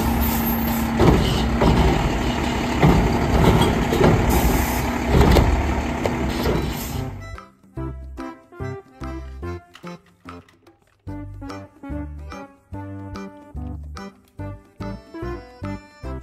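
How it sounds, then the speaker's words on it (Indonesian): A toy garbage truck gives off about seven seconds of loud, rumbling, engine-like noise, then switches to a bright, jingly electronic tune that plays on in short bouncing notes. "Mobil truk sampah."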